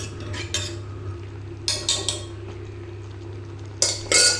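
A utensil scrapes and clinks against a pan in short bursts while chicken is stirred with browned onions, over a low steady hum.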